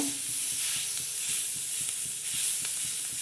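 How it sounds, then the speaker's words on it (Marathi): Onion roasting in a pan for green chilli thecha gives a continuous close sizzle, with regular soft scraping strokes of a spatula in a steady rhythm. "लालसर असा कांदा भाजून घ्यायचा"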